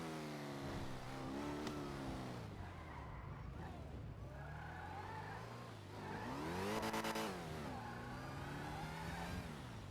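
A heavy car engine in GTA's NoPixel roleplay revs and accelerates continuously, pitch rising and falling through gear changes with a surge near the middle, tyres briefly sliding.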